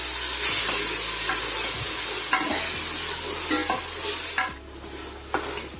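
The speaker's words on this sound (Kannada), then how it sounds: "ಮಿಕ್ಸ್ ಮಾಡಬೇಕು ಚೆನ್ನಾಗಿ" Mutton biryani masala being stirred in ghee in a pan, with continuous sizzling and frying plus regular scraping strokes of a ladle, close and loud, with no talk.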